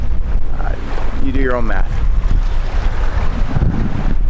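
Light wind buffets the microphone aboard a sailboat running downwind under jib, with water washing along the hull; a person speaks briefly over the steady rush.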